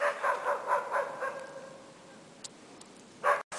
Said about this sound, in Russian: он лося первый раз увидел и со страху лает